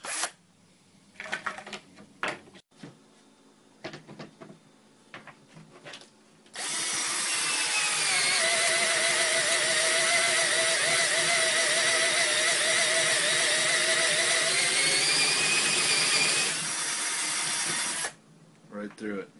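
Hitachi DS10DFL cordless drill with a big, sharp bit boring through wood: brief handling noises and talk first, then one long, loud, steady high whirring cut that runs about eleven seconds and stops abruptly.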